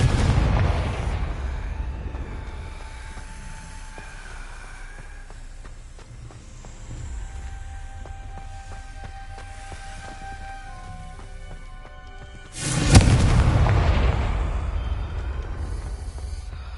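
A fiery Confringo blasting curse from Hogwarts Legacy erupts with a loud, sudden burst that rumbles and crackles for several seconds, following a quieter stretch of softer magical bursts and ambient tones.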